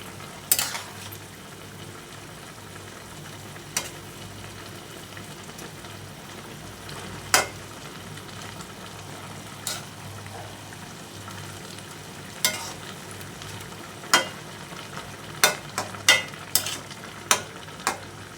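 Mustard greens and koi fish cooking in a pan, a steady soft sizzle with occasional sharp spatula knocks and scrapes as they are stirred, growing more frequent toward the end.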